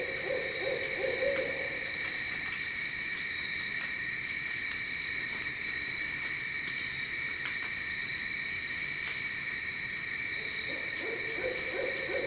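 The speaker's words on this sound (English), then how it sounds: "I love hearing owls." Soft, low owl hoots repeat at intervals through a steady night chorus of crickets and insects in a Tennessee state park, with no voices.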